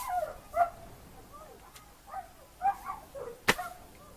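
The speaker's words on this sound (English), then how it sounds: "There's a load of dogs barking out there." Several dogs bark outdoors at a distance, scattered yaps and barks coming in short bursts, faint under the quiet indoor room tone, with one sharper sound standing out near the end.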